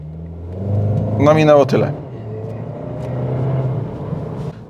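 A 2023 Skoda Karoq 2.0 TSI pulls away from a standstill, its low engine rumble steady at first and then swelling as it accelerates, heard from inside the car with a brief spoken phrase over it.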